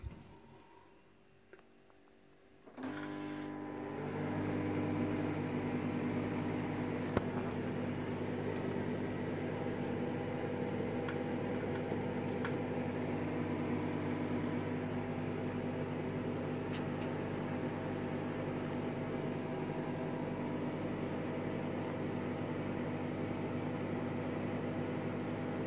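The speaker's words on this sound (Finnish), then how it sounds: "se laitetaan mikroalto uuniin. Minuutti ainakin." A microwave oven heating bread switches on with a click, then hums steadily and evenly for the rest of the time, a close, moderate drone with faint occasional ticks and no voices.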